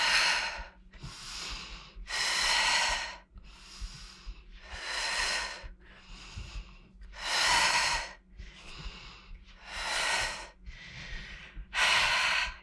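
Loud, close breathing during a morning glute-lift workout: long whooshing inhales and exhales in a slow, regular rhythm, about a dozen breaths, each separated by a short quiet gap.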